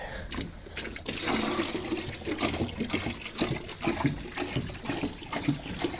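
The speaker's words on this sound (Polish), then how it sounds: "wlejemy ciepłej wody" Warm water pours and splashes steadily at close range, gurgling and trickling throughout with a few louder sloshes.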